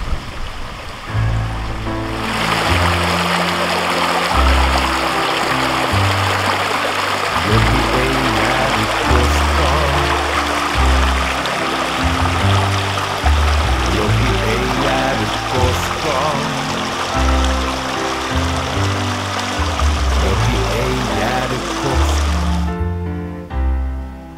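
A stream flows toward the Isojoki river in Finland, a loud, steady rush of running water that carries on without a break, with a low tonal hum underneath and no voices.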